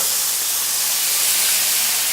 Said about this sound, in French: Alors ça, il faut quand même bien le rôtir, hein. Le frire plutôt, on va dire.